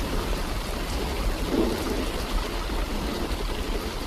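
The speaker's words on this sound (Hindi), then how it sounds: "कुछ ही देर में बारिश के साथ साथ ओले भी गिरने लगते हैं।" Heavy, dense rain mixed with hail pours down on crops in a continuous, loud, even downpour with no pauses and no voices.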